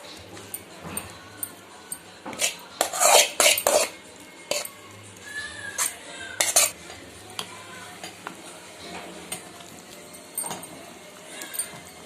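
A spoon mixes sautéed onions into idli batter in a bowl, with irregular clinks against the rim and bursts of wet stirring and scraping up close.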